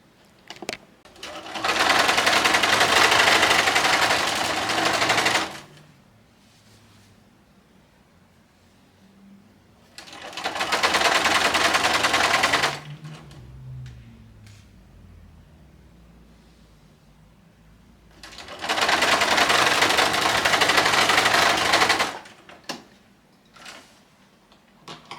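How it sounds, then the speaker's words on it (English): A sewing machine stitches a rolled hem up and back along the slit of a tulle wedding gown in three loud, steady bursts of several seconds each, separated by quiet pauses with faint handling sounds. "I'm going to do just the rolled hem up and back on the"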